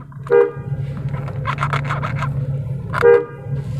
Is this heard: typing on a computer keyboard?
no